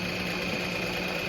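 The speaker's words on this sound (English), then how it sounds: "drop the needle there, and it should sew" A Juki sewing machine runs steadily as it stitches, giving a continuous even mechanical whir with a fine high hum throughout, fairly loud and close, with no talking.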